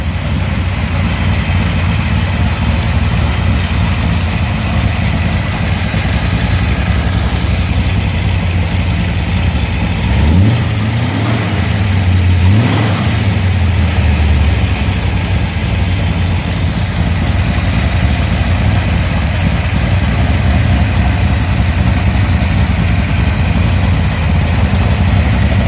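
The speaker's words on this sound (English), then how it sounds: "But I can't rev it up higher, Andy, because I say I don't have the valve" A 408/360 stroker V8, not yet fitted with valve springs to match its camshaft, idles with a steady loud rumble and is blipped once into a short rise and fall of revs midway through.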